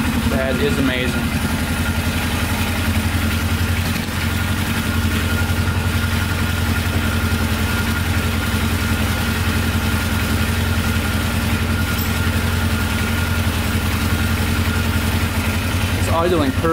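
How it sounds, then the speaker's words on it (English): A Polaris 500 4x4 ATV engine idles steadily and loudly up close, a smooth, even, low chugging rumble sustained throughout without knocking; a voice speaks over it. "Idling perfectly, no knocking at all. Sounds really good."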